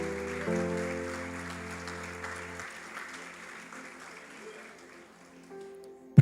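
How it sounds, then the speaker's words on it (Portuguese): Church congregation applauding during a sermon. The clapping starts over sustained organ or keyboard chords that drop away midway, then fades gradually, and a sharp knock lands at the very end. "Só quem crê nessa palavra aplaude o Senhor."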